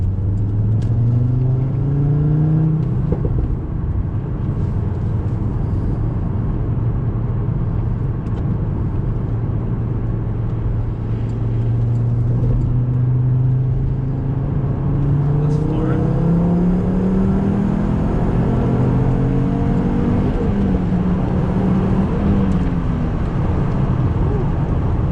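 A Volvo S60R/V70R with stage 2 AEM water methanol injection pulls hard from inside the cabin, its engine droning and climbing through several gear changes with rising, then dropping pitch, loud and constant the whole way.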